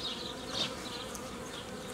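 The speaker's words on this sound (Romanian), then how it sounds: "Pare mult albine, da." Honeybees buzzing steadily around hive frames during nucleus-colony splitting from a queenless colony, a dense close insect drone with no talk.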